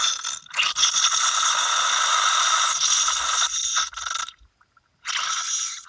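A pressure or release valve on an outdoor pipe in bushes at night makes a loud, steady mechanical rattling hiss with a ratchet-like texture, cutting out briefly twice before resuming.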